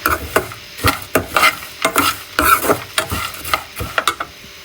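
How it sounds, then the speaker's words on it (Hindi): Flax seeds being stirred in a little ghee over a low flame, a close series of rhythmic scraping and rattling strokes against the pan with a faint sizzle underneath and no voices. "हल्का हल्का घी डाला ज़्यादा नहीं, और उसको छोड़ना नहीं कि नीचे लग जाए, बस उसको हल्के चूल्हे पे जो है चलाते रहना है।"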